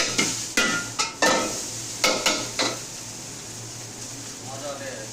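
Noodles frying in a pan are stirred with a utensil, giving a run of sharp scraping clacks over a steady sizzle in the first three seconds, then settling into a softer continuous sizzle.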